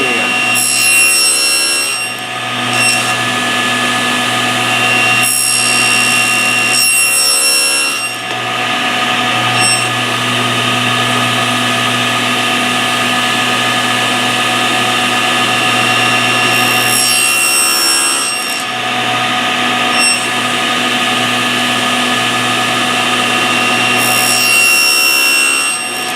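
A hand saw cutting box dovetails freehand in wood, with loud, close rasping strokes in a steady back-and-forth rhythm, broken by a few short pauses between cuts and heard alone without talk.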